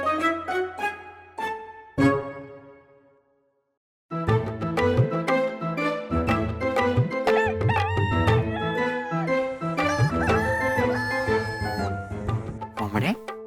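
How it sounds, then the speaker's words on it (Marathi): A rooster crows loudly and close by, and chickens cluck and squawk in a lively, overlapping burst. A brief silent gap falls early, then busy calling continues throughout. "कोंबड्या"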